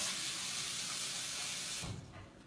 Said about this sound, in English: Now I'm going to fill it with water only about here, covering up half of the cauliflower.